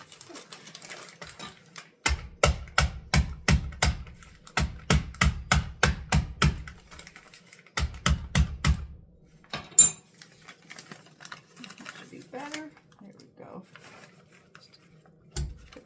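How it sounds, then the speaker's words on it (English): Walnuts being crushed for Christmas baking: bursts of rapid, sharp knocking and cracking in quick rhythmic runs, close and fairly loud, separated by short pauses, with a few faint clinks afterward. "Kind of crush the walnuts a little bit."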